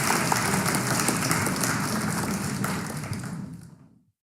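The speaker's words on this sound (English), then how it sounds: "I don't know if I deserve that applause" A large audience at a live poetry event applauds a speaker, a dense, steady wash of clapping that holds for several seconds and then fades quickly into silence.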